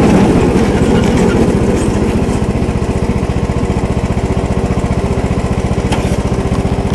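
A John Deere riding mower idles in neutral close by, its engine putting out a steady, rhythmic chug with a fine repeating pulse and no voices over it.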